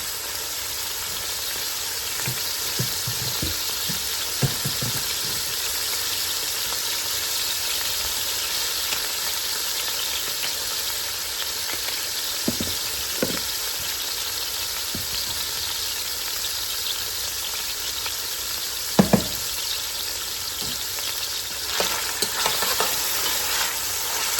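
Saltfish frying in a pan hisses in a steady, loud sizzle, broken by scattered scrapes and clacks of a spoon stirring, with a sharper knock partway through and no talk.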